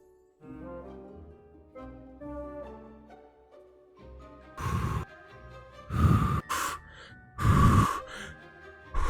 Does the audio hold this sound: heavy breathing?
yes